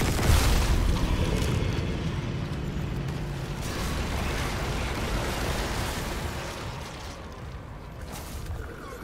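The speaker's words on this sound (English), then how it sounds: "I'm shooting this." Heavy gunfire from a weapon in the Dead Space Remake game on PC, a dense, loud run of booming shots and bursts that carries on steadily with no voices over it.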